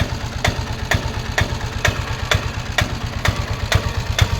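A 2008 Piaggio Ape load auto rickshaw idling, its small diesel chugging in a fast, even low throb with sharp periodic clicks or knocks about twice a second, close and steady, with no talk.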